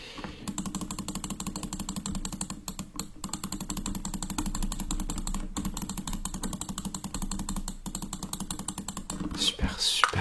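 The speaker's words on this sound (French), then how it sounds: "je vais emballer le carton" Cardboard box being wrapped in a close-up ASMR setting: a continuous stream of fine, rapid crackling and ticking, close and steady throughout, ending in a louder rustle.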